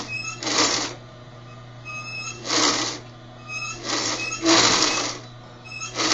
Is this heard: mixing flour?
no